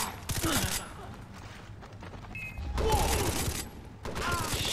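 A mounted cannon in the Far Cry 3 game fires in bursts of heavy gunfire with mechanical clatter. The loud volleys come at the start, in the middle and at the end, with quieter stretches between them.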